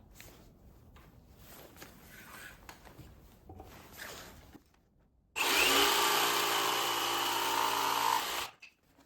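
A jigsaw, guided by a square clamped to the workbench, cuts through a piece of wood in one loud, harsh burst lasting about three seconds, after some quieter shuffling and handling noises.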